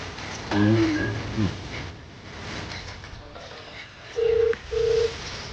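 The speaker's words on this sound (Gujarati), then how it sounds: "રાજ્યાને ફોન કરવા દે" A phone number is keyed in, giving two short steady keypad beeps near the end after a brief voice at the start, with low room hiss underneath.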